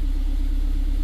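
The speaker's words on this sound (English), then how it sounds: "There you go, car is running, no key light." A car engine idles just after starting with a cloned transponder key, a low steady rumble with a faint pulsing hum, close and continuous, no voices.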